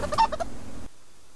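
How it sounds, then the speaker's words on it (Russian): A tame chicken in the game Subsistence gives a short burst of loud, close clucks as it is grabbed, cut off abruptly into silence after under a second. "Она кудахчет, и из нее летят перья."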